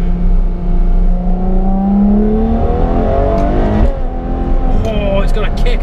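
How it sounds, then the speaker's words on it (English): A Ferrari F12 TDF V12 engine revs loud and close, its pitch climbing through gears, then blips rapidly through quick downshifts with sharp rising barks near the end, while someone talks over it. "Watch how quickly this downshifts."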